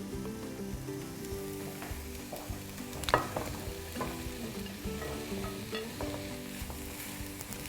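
Sliced carrots tipped into a pan of frying onions for a slow-cooker beef stew, giving a steady sizzle with a brief louder clatter and hiss as they land, then continued crackling frying alone.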